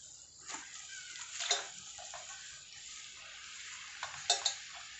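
Spinach goes into a pan for palakura pappu and is stirred, giving soft wet rustles and scraping with a few brief metallic clinks over a quiet, steady background.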